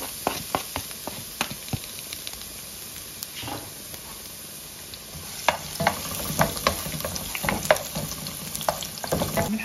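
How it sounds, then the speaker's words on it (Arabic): Onion sizzles steadily in hot oil in a heated pan, with a constant bright frying hiss broken by sharp clicks and scrapes from stirring. "درنا المقله كتسخن، درت فيها شويه الزيت، غندير البصله الاولى هي تشحر حتى تطيح"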